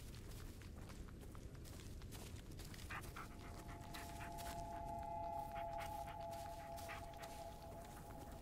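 A dog panting in the Blair Witch video game, quick steady breaths close by and fairly quiet, continuing throughout with a few faint whimper-like tones, and no talking.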